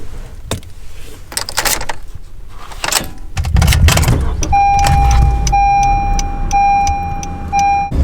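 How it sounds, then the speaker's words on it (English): A four-cylinder Honda Civic coupe engine hums steadily while driving, a low rumble growing louder midway, with a few faint clicks and a thin electronic beeping tone layered on top. "you can hear a little bit of the engine noise, of course."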